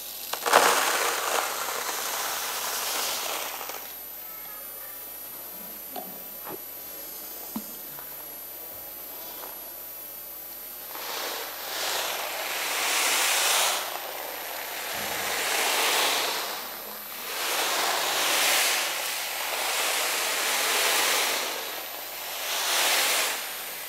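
Salt shaken and rolled inside a tambourine to imitate the sea, giving slow, swelling hissing washes that rise and fall like waves, some brief clicks first, then several surges in a row.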